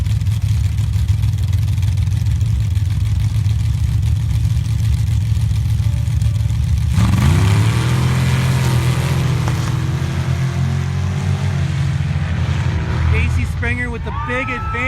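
Drag race cars launch and accelerate down the strip at a Pro 3 class bracket event, one a Land Cruiser, engines droning steadily and then climbing in pitch with rising revs under continuous announcer commentary over a loudspeaker.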